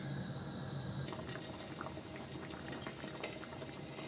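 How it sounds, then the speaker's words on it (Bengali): Water bubbles at a rolling boil in a cooking pot for rice and chicken, a close, steady hiss dotted with popping bubbles and no voices. "পানিটা ফুটে গিয়েছে"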